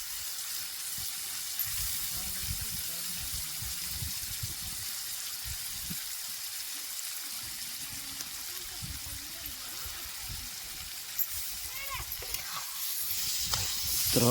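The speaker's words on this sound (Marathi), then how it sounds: "या अशा प्रकारे तेलात एकदम व्यवस्थित बटाटा, तांबाट, वाटाणा, वाल, मिरची, कोथिंबीर." Potatoes, tomato, peas, beans and green chillies fry in oil for a khichdi meal, with a continuous soft sizzle and occasional stirring scrapes throughout, growing slightly louder near the end.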